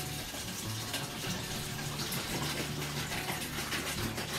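Water poured from a gallon bottle into a cooking pot for Jamaican sorrel, a steady close gushing and splashing flow that runs continuously with no voices.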